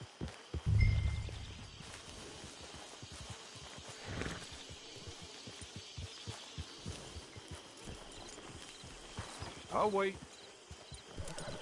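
Horse hooves clip-clop on a trail in the Red Dead Redemption 2 video game, soft and intermittent beneath a voice and game ambience.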